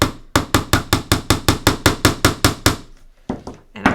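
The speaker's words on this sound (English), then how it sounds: "Now I'm going to take this tiny little nail, just put it in here and hammer it right in." A hammer drives a tiny nail into a wall with a quick, even series of about fifteen sharp, loud strikes, then a few softer taps after a short pause.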